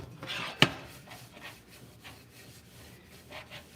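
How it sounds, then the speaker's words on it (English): A paper towel soaked in rubbing alcohol wipes out a candle wax pot with soft, faint rubbing strokes, broken by one sharp click early on. "we're gonna use a paper towel, fold it in half, and then we're gonna use some rubbing alcohol"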